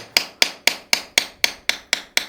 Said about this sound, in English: Yeah, this is a nice chisel.